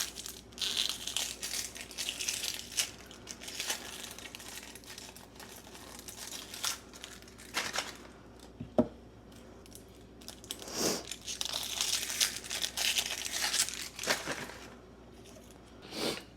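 The papery skin is peeled off a red onion cut in half lengthwise with the root end left on. Close, crisp crinkling and crackling rustles come in uneven bursts throughout, with no talk.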